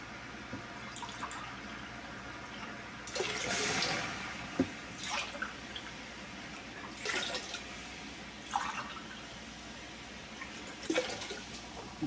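Three cups of apple juice poured into a brine mixture for smoking a turkey, heard as faint, intermittent bursts of splashing liquid over a low, steady background.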